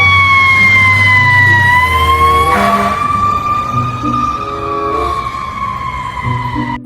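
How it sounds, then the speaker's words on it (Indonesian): Toy fire truck siren wailing continuously at close range, a steady rising and falling electronic tone that runs unbroken throughout. "Ini truk pemadam kebakaran."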